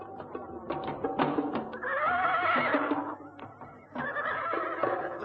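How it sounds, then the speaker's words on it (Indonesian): Horses neighing in a radio drama scene, two or three loud whinnies in quick succession, close and clear, with faint hoof clops between them and no talking over the calls. "Itu kuda-kuda mereka."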